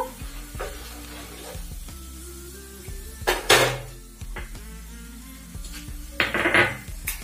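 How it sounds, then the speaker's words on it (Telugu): Ingredients for a red chilli pickle fry in a pan while a metal spoon scrapes and knocks against it, giving a low hiss under a few loud clanking stirs, close by with no talking. "ఇది కొద్దిగా లైట్ గా మంచి కలర్ వచ్చేంత వరకు వేయించుకుందాము"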